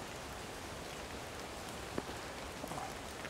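Heavy rain pouring down outdoors by the Ammersee, a dense, constant hiss of drops with a few sharper splashes near the end, no talking.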